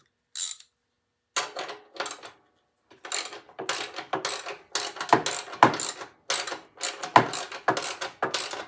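Ratcheting and metallic clicks from bolts being tightened on a Snapper riding mower in a workshop, coming in short bursts of several quick clicks separated by brief pauses, close and fairly loud, with no talk.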